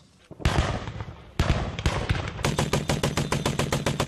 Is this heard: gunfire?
yes